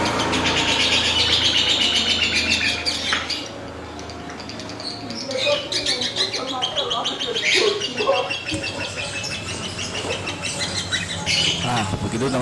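A lovebird fighter chatters and squawks continuously in rapid, busy high-pitched bursts close by, loud and steady throughout the stretch with no voices over it.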